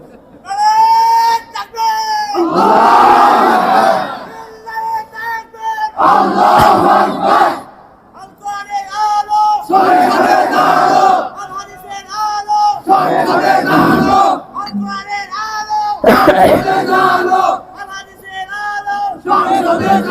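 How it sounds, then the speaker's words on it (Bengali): Large rally crowd chanting the Nara-e-Takbir slogan in loud call-and-response, a leader's voice alternating with the roaring mass answer in repeated waves. "কই আপনাদের নারায় তাকবীর স্লোগান কই"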